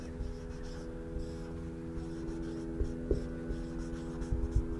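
Marker or chalk writing on a board during a Hindi maths lesson on averages: faint, soft scratching strokes in short bursts over a steady low room hum.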